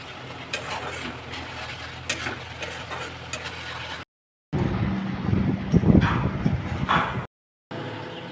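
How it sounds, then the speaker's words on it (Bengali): Spice paste sizzles and bubbles in oil in a pan as water is added and it is stirred for a mutton curry, a steady close frying hiss with scraping, interrupted by brief silent cuts. "মশলায় জল দিয়ে একটু নাড়তে হবে।"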